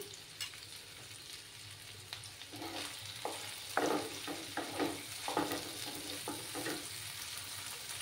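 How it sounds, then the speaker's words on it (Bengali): Masala paste of coriander powder, Kashmiri chilli powder and turmeric fries in hot oil for a tangra fish curry, a steady soft sizzle broken by repeated scraping stirs that come in quick bursts. "এবার আমি মশলাটা দিয়ে দিচ্ছি, দিয়ে ভালো করে কষিয়ে নেব"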